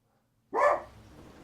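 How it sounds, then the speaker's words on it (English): A dog lets out a single sharp bark after a moment of silence, close and loud, and the sound then fades into a low tail. "there's another dog And barking"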